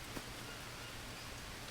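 Steady, faint rain in the game Spirits of Amazonia, an even hiss of falling drops with no pauses or other sounds.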